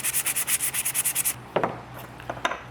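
Rhythmic rasping strokes of a sanding block rubbing a wooden knife handle, about a dozen quick even passes close up, then a few scattered scrapes and knocks.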